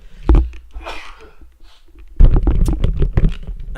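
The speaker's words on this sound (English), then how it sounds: "Sorry about that, I had to sneeze." A single sharp sneeze bursts out near the start, followed by quieter breathy noise and then someone talking close to the microphone.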